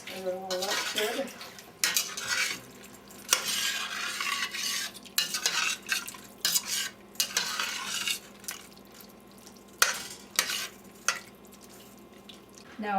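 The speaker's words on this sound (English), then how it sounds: "Now I've stirred in everything in there" Close, busy stirring of a burgundy and mushroom stew in a pot, with repeated scraping, sloshing and sharp clinks of the spoon against the pot's sides, irregular and fairly loud throughout.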